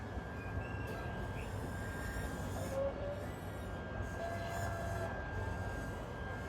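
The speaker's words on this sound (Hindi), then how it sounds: "तो मैं आपको यहाँ का मेट्रो भी दिखा देती हूँ कि कैसा है यहाँ पर" A Kuala Lumpur metro train rumbles steadily during a ride, with continuous low wheel and track noise, a faint high whine and occasional soft squeals throughout.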